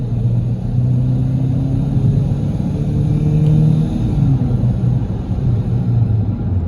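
Interior of a 2011 Vauxhall Astra automatic pulling away under throttle: a steady, loud low engine drone with rising pitch as it accelerates, heard alone without talk.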